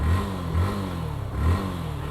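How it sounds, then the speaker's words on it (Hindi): A motorcycle engine turns over and revs in short repeated pulses, rising and falling roughly every second over a steady throbbing idle, close and fairly loud, with no speech. "बाइक को चालू करेंगे,"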